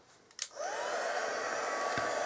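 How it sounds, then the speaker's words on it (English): A heat tool for crafting is switched on with a click, then a steady, loud blowing whir of hot air spins up and holds alone at the workbench while papercraft supplies are embossed. "I'm going to put my heat tool on"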